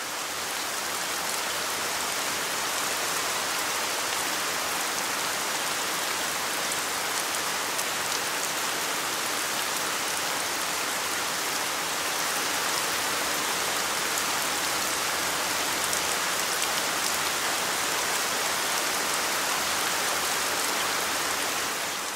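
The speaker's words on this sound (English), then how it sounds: "dark thunderstorms suddenly gathered over the country, and then it just never stopped raining" Steady heavy rain pours down on a surface, a dense unbroken hiss that stays constant with no voices.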